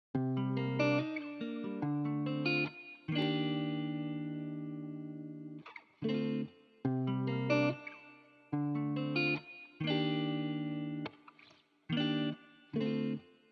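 A distorted, chorus-soaked electric guitar loop in FL Studio plays chords in choppy bursts with sustained notes, washed in reverb and shaped by a bright EQ.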